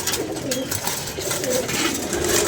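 Pigeons cooing in a loft as they are let out, soft repeated coos with rustling wing flaps over steady background noise, no talk.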